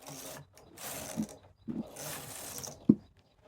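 A knitting machine carriage knitting rows of a lace pattern, heard as soft mechanical whooshing passes with ratcheting clicks and a sharp click near the end, fairly quiet and with no voice.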